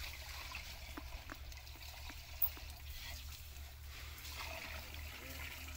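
Water trickles and flows steadily from a pipe on a farm where animals are being watered, a faint continuous stream with a low hum underneath and no talk.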